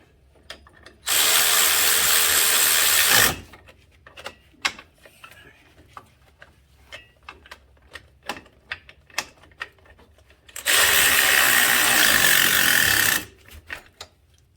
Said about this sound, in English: probably won't be able to reach with my ratchet